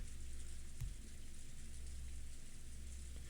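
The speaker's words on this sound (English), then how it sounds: "A gentle rain poured down over the Golden Land's rose garden." Gentle rain falls over a rose garden in the Umineko visual novel game, a steady soft hiss of drops throughout with one brief low thump early on, calm and even, with no speech.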